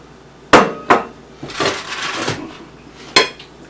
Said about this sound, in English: Okay, I'm going to chop these up.